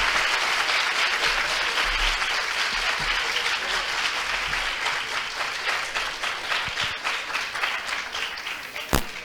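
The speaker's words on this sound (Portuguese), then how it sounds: "Uma salva de palmas para o professor." An audience claps steadily for a professor at the close of a FUVEST 2018 entrance-exam review session on Iracema, with dense sustained applause from a room of people that thins slightly near the end, then a single sharp knock.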